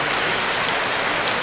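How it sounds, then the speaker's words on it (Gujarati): Heavy rain pelts an open vegetable market, a loud continuous close hiss of drops with no voices. "કેવો વરસાદ આવ્યો"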